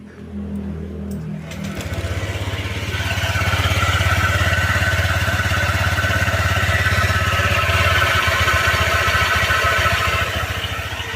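A motorcycle's CVT transmission that needs cleaning and checking runs with a steady low drone and a rough, rattling mechanical clatter, close and loud, rising slightly after a brief start.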